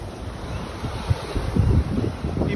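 Ocean waves wash onto a beach in the morning under steady wind buffeting the microphone, with a low, churning surf that swells and eases, and no voices.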